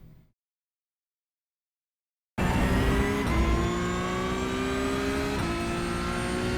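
After a stretch of silence, a Porsche GT3 Cup race car in iRacing bursts into a loud, sustained full-throttle engine howl at the Spa circuit, climbing in pitch with short dips at gear changes.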